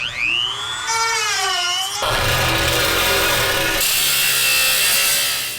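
A handheld rotary tool trims plastic from the fan shroud support of a BMW 328i with the N52 engine, a steady high whine with shifting pitch that turns harsher and grinding as it bites in, loud and continuous throughout.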